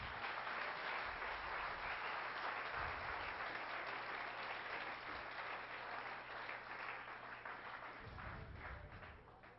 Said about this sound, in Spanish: ¿Puedes darle un aplauso fuerte al Señor?